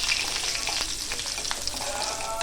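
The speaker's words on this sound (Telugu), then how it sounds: "పోపు దినుసుల్ని ఫ్రై చేసుకుంటూ ఉండాలి." Spices and chopped garlic tempering in hot oil for a bitter gourd fry, a steady close sizzle with soft scraping stir strokes throughout.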